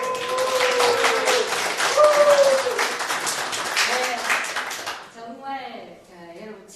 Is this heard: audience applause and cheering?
yes